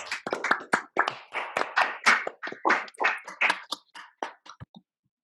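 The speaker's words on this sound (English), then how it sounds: "Wow, big round of applause, please." Scattered clapping from a few participants in an online meeting, uneven bursts of hand claps over several seconds that thin out and stop.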